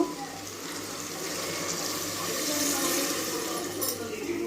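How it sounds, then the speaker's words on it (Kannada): Water poured into a pot of vegetables for upma, a steady rushing splash that swells slightly partway through and continues to the end, close by and without speech. "4 ಕಪ್ ನೀರು ಹಾಕಬೇಕು."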